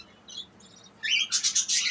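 Lovebirds in a cage chirp in quick, bright bursts, starting faintly and growing into a loud, rapid series of overlapping calls close by.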